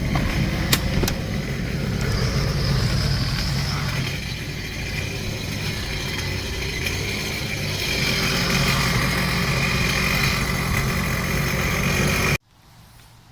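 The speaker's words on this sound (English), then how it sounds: "Alright, so I've run the motor for about 5 minutes, let it warm up." A 2006 Sea-Doo RXT engine idles steadily to warm up, a loud continuous mechanical hum with faint ticking, cutting off abruptly near the end.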